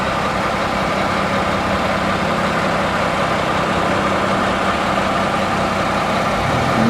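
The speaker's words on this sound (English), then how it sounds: "And this is the truck with the hydraulic pump." A truck engine idles while powering a hydraulic pump for the jacks used to lift a house, a loud, steady, low mechanical rumble that holds constant throughout and stands alone without talk.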